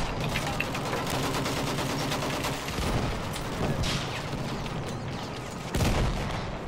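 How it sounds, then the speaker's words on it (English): Mortar fire in the Battlefield 1 video game, with booming blasts and rattling gunfire in a continuous, dense battle din and a sharp heavy burst near the end. "Going with the mortar shot."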